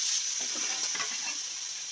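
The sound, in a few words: boiled green peas added to frying spices and sizzling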